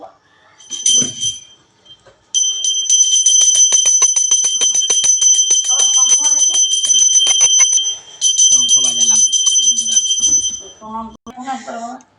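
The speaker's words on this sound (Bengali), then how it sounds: "শঙ্খ বাজালাম" A conch shell blown during a home puja, a long sustained bright horn tone held for several seconds, briefly broken and resumed, with voices and rustling around it.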